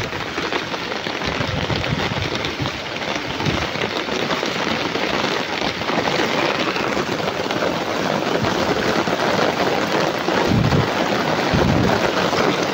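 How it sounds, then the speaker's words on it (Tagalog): Dense, continuous typhoon downpour roaring loudly and evenly throughout, with gusty low rumbles of wind buffeting close by and no voices. "So malakas pa rin na ulan."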